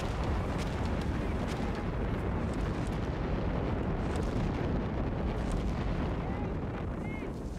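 Rumbling artillery fire in Company of Heroes 3, a 4v4 battle on Mignano Gap, forms a dense, continuous roar of overlapping blasts with faint whistling shells, loud and unbroken throughout.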